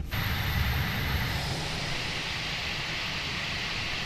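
Fenix Airbus A320 in a flight simulator begins to taxi after brake release, a steady broadband jet engine roar with constant hiss, loud and continuous throughout.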